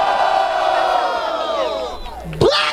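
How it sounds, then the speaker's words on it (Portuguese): A rap battle crowd in Baruer, Brazil, roars and whoops loudly, with overlapping shouting voices that fade over a couple of seconds before a sharp burst near the end. "Barulho para as rimas de Mina Cris."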